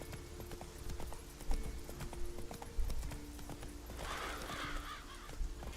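Roach the horse from The Witcher 3 runs with a steady, rhythmic clip-clop of hooves close by; faint bird calls and a brief rustling swell rise near the end.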